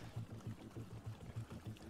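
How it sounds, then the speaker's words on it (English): Water filling up in the video game We Were Here Together, a faint, low pouring gurgle with rhythmic bubbling pulses, brief and heard alone. "Filling up with water."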